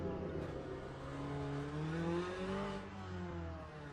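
A hypercar engine in the racing game Le Mans Ultimate drones steadily and fairly faintly, its pitch rising and falling smoothly through gear changes, with no voices over it.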